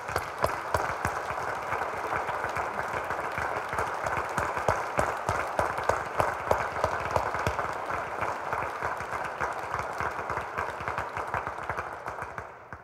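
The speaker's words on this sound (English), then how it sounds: "let's all give them a round of applause" A large audience at an annual State of the City event applauds continuously, with dense, steady clapping sustained for over twelve seconds before it starts tapering off at the end.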